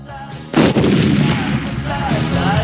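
A single loud, close gunshot bursts out and is followed by a long, booming echo that lingers and rolls on to the end.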